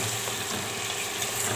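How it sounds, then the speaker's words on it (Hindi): Potatoes and sliced onions fry together in a pan for a wild melon and potato sabzi, giving a steady, close sizzle with soft stirring scrapes throughout and no talking. "थोड़ी देर के लिए हम भूनेंगे प्याज के साथ।"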